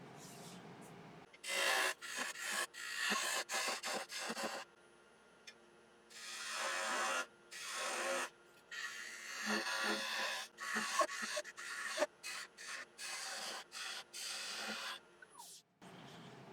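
A lathe turns a small fillet and button knob on an elm bowl, with a steady scraping, rasping cut in long continuous passes broken by short pauses; close, loud, and without voices.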